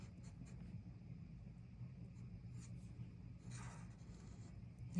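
Faint pencil scratching on paper while drawing a girl from the letters U and H, soft rubbing strokes over a low background rumble.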